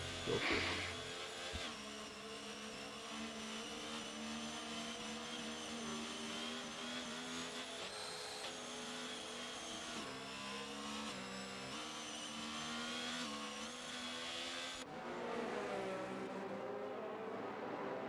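Onboard race car engine in a sim racing game at Imola, a steady buzzing drone with rising and falling revs and gear shifts, faint overall with talk over it.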